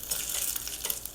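Mustard seeds and curry leaves sizzling in hot coconut oil for a tempering, a bright steady crackling hiss at close range with no voices.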